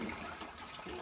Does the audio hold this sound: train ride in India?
no